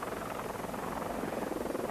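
Helicopter arriving to land at a stadium on a foggy morning in Skoczów, a steady continuous rotor and engine drone filling the whole stretch at moderate loudness, with no voices.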